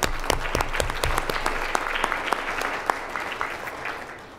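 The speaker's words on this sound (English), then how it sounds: "let's get a round of applause for our girls." Round of applause from the audience at a school board meeting, many hands clapping with some sharp individual claps standing out, gradually thinning and fading toward the end.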